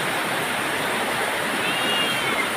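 Heavy rain pours steadily during a typhoon in the Philippines at dawn, with flooded streets and overflowing drainage, making a dense, continuous, loud rushing hiss with no breaks.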